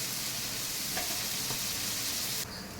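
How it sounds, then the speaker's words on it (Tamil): Sliced onion and potato sauté in hot oil in a pan, giving a steady, close hissing sizzle that carries on without a break. "வதங்கிட்டங்க, வெங்காயம் கொஞ்சம் வதங்கினா போதுங்க."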